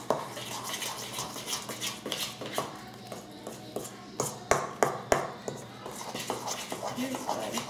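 Brownie mix is stirred around a bowl in a rhythmic series of soft scrapes and light clinks, with a few sharper taps of the spoon against the side, while a voice talks over it.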